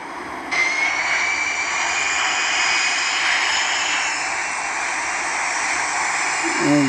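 Airliner engine roaring under hurricane-force winds of over 60 knots near Florida in the Infinite Flight game, a loud steady whooshing drone with a rising tone, alone and unbroken.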